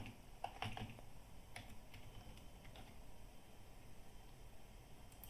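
Typing on a computer keyboard while searching a trading platform, with light scattered key clicks that are quiet and close over a faint steady background hiss, and no talking.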